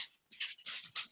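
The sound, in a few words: dog whimpering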